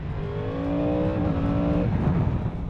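Engine of a 2023 Yamaha R1 sport motorcycle running in mode C, a steady droning grumble with rising harmonic tones as the revs climb, loud and close, then settling into a rougher rumble.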